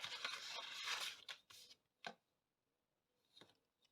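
Scissors cut paper pieces for a scrapbook pocket, giving a run of quick close snips and rustles, then a pause and a couple of fainter cuts near the end.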